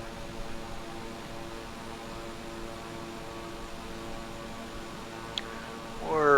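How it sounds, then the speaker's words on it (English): A propeller aircraft on approach to Toncontin, Honduras, with approach flaps and landing gear extended, a steady droning engine hum heard from inside the cabin, with a brief click and a rising swell near the end. "approach flaps, gear going down"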